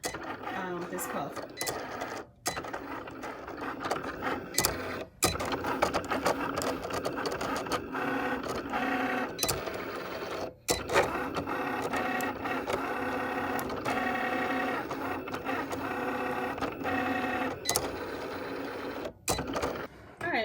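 A Cricut cutting machine working through a rhinestone template job for a 3D puff design, its motor whirring and clicking steadily with a few brief pauses, while a person talks over it throughout.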